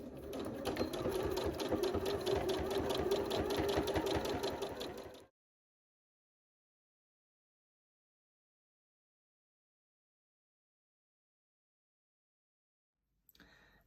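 A sewing machine backstitches through quilt fabric, running steadily with a fast even whir and needle chatter for about five seconds before stopping abruptly, followed by long silence and a brief faint noise at the end.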